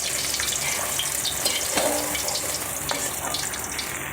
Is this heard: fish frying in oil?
yes